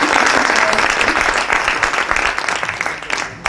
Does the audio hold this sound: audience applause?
yes